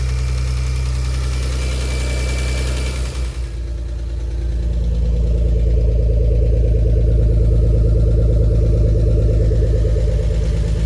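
A BMW S52 engine in a turbocharged E46 runs on its first start. It gives a loud, steady rumbling idle, and after a brief dip the engine note rises and holds firm and continuous.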